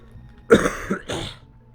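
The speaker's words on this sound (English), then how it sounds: "Why do I have a cough all of a sudden?" Two short, rough coughs close up, one after another, with a brief pause between them.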